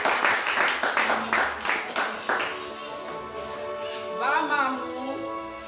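Audience applause and cheering at a convention, welcoming a woman to the stage: dense clapping for about two seconds, then thinning as a speaker's voice takes over.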